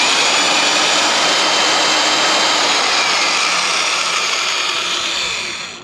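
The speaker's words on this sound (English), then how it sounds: "it's basically a drill with a long shaft and a gear reduction" A homemade drill with a long shaft and gear reduction, used for track work on an ASV RCV, runs as a loud, steady high-pitched whine with a broad rushing hiss, holding constant for several seconds before spinning down at the end.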